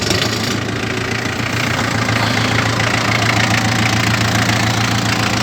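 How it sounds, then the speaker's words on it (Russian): A used Japanese tractor's engine runs at a steady idle, a loud, close, continuous rumble with an even knocking pulse and no change in pace. "Давайте заведем трактор."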